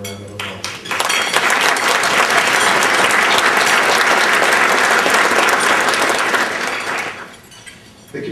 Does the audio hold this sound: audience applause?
yes